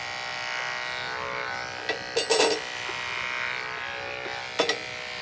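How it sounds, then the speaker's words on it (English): Electric clippers shave a goat's neck in short buzzing bursts, one longer pass and a brief one later, over a steady background hum. "And that's where I'm gonna shave it here."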